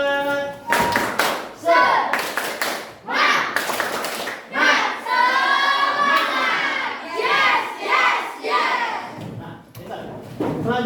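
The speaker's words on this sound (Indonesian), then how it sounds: "Kita tepuk semangat terlebih dahulu." Students standing in a classroom perform a rhythmic group clap, short bursts of clapping alternating with children's chanting and shouting voices, fairly close and loud.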